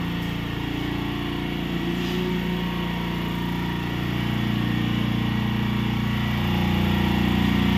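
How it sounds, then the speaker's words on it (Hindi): A Bajaj Avenger 150 motorcycle in new condition idles with an even, continuous engine chug close by, growing slightly louder toward the end, with no voices. "तो गाइस ये है हमारी बाइक जो हमने ली है, एवेंजर 150"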